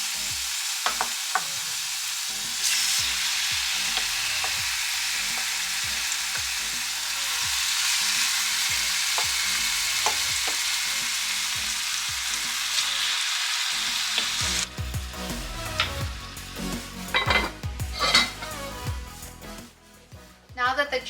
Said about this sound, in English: Oh my god, look at that sizzle.